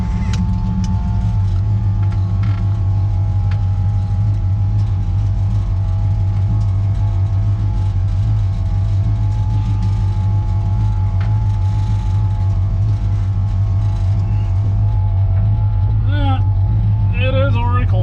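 A 1968 Dodge Charger with a new RV 440 engine drives along, its deep steady engine drone filling the background under someone talking, with a brief higher whine near the end.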